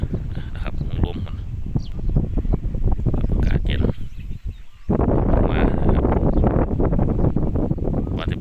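Dry, cold wind blows outdoors, buffeting the microphone with a steady broadband rush beneath someone talking throughout, easing briefly in a short lull midway.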